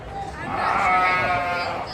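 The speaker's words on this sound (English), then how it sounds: "I saw some pygmy goats here." Pygmy goat bleating at a youth fair, a drawn-out nasal bleat swelling in the middle and fading, close and fairly loud, with crowd chatter faint underneath.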